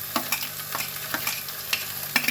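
Chopped tomatoes and green chillies sizzle in a hot pan on a home stove while a spoon scrapes and stirs them in quick, irregular strokes, close and fairly loud.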